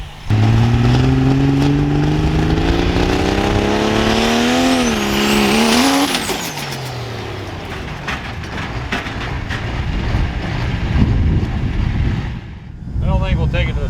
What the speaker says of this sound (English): we're going to take it out, launch it one time before we load it all on the trailer, and Ron washes it